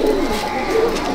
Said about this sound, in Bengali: আপনারা দেখুন পায়রা দুটো।